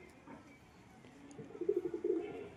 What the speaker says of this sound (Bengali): খুবই সুন্দর কবুতর, মাদি কবুতর।